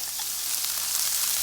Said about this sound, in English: the onion is frying up about a minute now